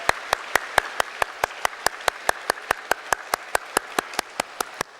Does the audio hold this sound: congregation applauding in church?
yes